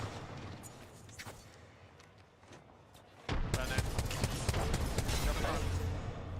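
A grenade detonates during an Apex Legends competitive match, a sudden loud blast midway that rolls into dense, crackling noise after quieter gunfire taps, with players talking over it.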